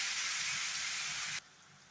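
Tomatoes for a cluster bean curry sauté in a hot pan, giving a steady bright sizzling hiss that drops abruptly to a quieter simmer after about a second and a half.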